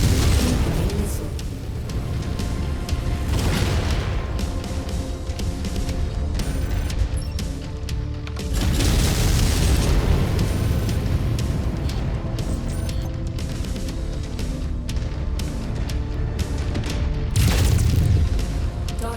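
Missile explosions in MechWarrior 5 battle gameplay: repeated heavy booms and bursts rolling one after another over a constant rumbling din, loud and dense throughout.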